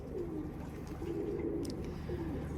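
Pigeons coo in a rooftop loft, several low rolling coos repeating steadily and close by, with no talking.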